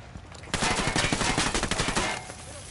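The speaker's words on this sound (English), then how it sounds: "I'm opening fire on these shipments." Sustained automatic gunfire from a Ghost Recon Wildlands firefight, a dense rapid burst of shots that starts abruptly and rattles on for about two seconds before cutting off, loud and close.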